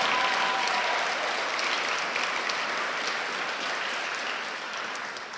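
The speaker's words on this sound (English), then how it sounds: "Yes, round of applause for the Corps." A crowd at a community environmental event applauds in a steady, fairly distant wash of clapping that fades slowly across the few seconds, with no speech.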